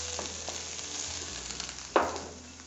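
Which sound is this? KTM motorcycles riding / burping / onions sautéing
onions sautéing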